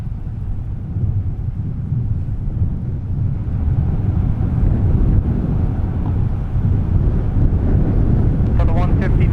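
A Delta heavy jet rolls for takeoff on runway 30 left at Minneapolis–St. Paul airport, a deep, steady roar that swells gradually, heard from a distance with wind buffeting the microphone.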